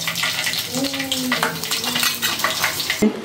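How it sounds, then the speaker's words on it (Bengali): Loitta fish fries crisp in oil over medium heat, giving a continuous loud sizzle with scraping and clinks of a utensil turning the pieces, and a sharp knock near the end. "একদম পারফেক্টভাবে মিডিয়াম আঁচ দিয়ে কড়া করে ভেজে নিচ্ছি"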